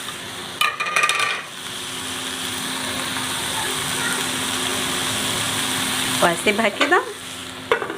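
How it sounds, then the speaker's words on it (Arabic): Colored bell peppers sizzle and fry with liver in a pan in a steady hiss, broken by brief clattering stirs near the start and end, with a short spoken comment. "انا دلوقتي احط الفلفل. احط عليه الفلفل الالوان"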